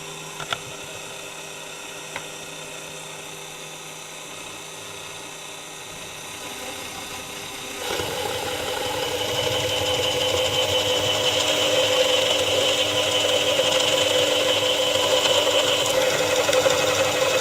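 A power drill bores a hole into a cheap DIY arcade fightstick case, starting as a faint whirring hum and then rising into a louder, steady grinding whine that runs for about ten seconds, with no talking.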